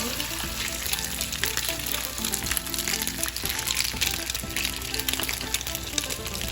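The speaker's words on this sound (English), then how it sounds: "Sizzle, sizzle, sizzle, sizzle, sizzle." Steady sizzling of pasta frying in a pan, a dense crackling hiss that holds level throughout with no talking.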